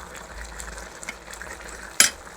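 Koinar greens frying in a pan over a lit stove as they are stirred, a soft steady sizzle broken by one sharp clink of a utensil against the pan near the end.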